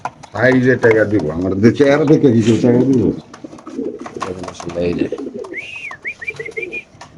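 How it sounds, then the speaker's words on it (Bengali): Racing pigeons cooing in cages at a pigeon sale, soft low coos under someone speaking loudly nearby, with a few higher chirps toward the end. "এখানে আছে ছিয়ানব্বই নাম্বার কবুতর কাছে একজোড়া সবজি রেসের কবুতর"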